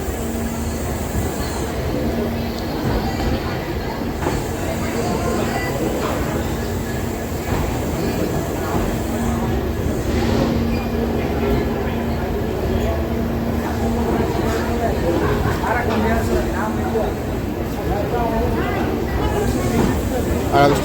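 Mail express train pulling out of Agartala station, a steady rumbling roll with faint rail clatter and a low hum, heard from inside a coach with a voice talking over it.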